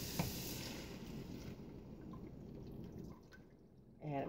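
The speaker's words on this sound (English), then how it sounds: "we're going to go ahead and add our chicken stock" Chicken stock pours into a cooking pot as a steady, fairly loud liquid rush, which eases off near the end before a brief splash.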